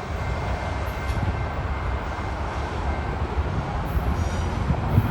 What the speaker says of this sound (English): Love hearing them locomotives when they're working, going up the hill